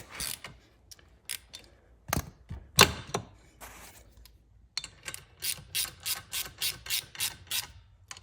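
A hand ratchet snugs the lower rearset bolt on a Honda Grom, with a few scattered clicks and knocks, then a quick run of rhythmic ratcheting strokes, close and fairly quiet, with no talk.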